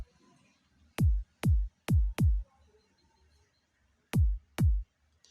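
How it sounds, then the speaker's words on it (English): Punchy R&B beat kick drum hits, six booming thumps with quick decays, four in an uneven run then a pause before two more, loud and isolated over near silence. "I always start off with a kick"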